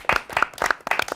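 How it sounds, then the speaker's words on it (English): Applause for a team at a movie-themed quiz night, a brief burst of several hands clapping in quick uneven rhythm, close and fairly loud. "A round of applause for team two."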